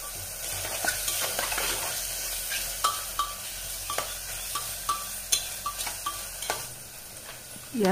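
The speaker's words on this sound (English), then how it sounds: "Mix it well." A spoon stirs masala powder into mushroom brown rice biryani in a pan, giving a steady soft scraping and light sizzling with repeated clicks of the spoon against the pan, and no voices.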